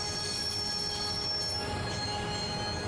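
A train in the video game Broken Sword grinds along, its wheels squealing against the rails in shrill, sustained tones over a dense rumbling roar, close and continuous.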